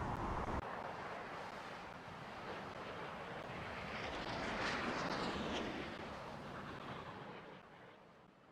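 A fighter jet roars in a naval combat game, an F-35 popping flares and evading, with a broad airy rush that swells toward the middle and fades away by the end.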